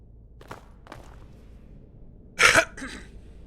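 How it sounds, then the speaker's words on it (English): A man in the Skyrim game clears his throat and coughs, two faint soft throat sounds followed by a louder, close double cough, otherwise quiet. "Excuse me. Cough."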